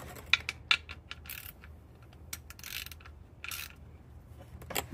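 A 13mm wrench ratcheting on the oil drain plug of a 2023 Jeep Grand Cherokee L, a few quick close clicks followed by scattered metallic ratchet bursts and scrapes, no talking.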